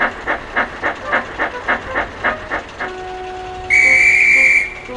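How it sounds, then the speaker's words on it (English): A run of rhythmic chuffing settles into a steady tone, then a train guard's sharp shrill whistle blast sounds for about a second. "the guard blew his whistle"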